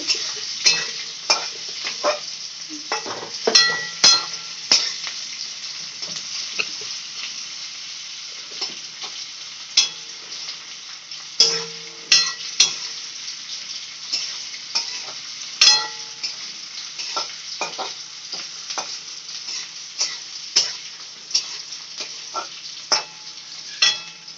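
Sugar sizzles steadily in hot oil in a pan while being stirred for egg posto, with a constant close frying hiss broken by frequent scraping taps of the spoon.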